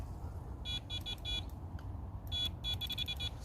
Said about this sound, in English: Other alarms going off.